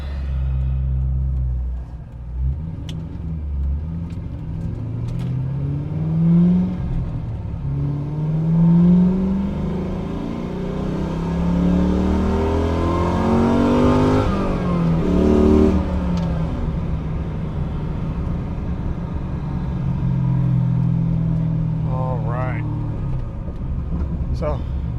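A 2004 Pontiac GTO's engine runs on the road, with a deep rumble that rises and falls through several revving accelerations and gear changes, loud and close throughout.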